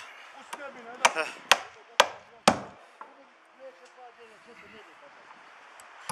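A hammer drives nails on a roof at a construction site, with four loud, sharp strikes in quick succession and a few fainter knocks, while voices talk in the background.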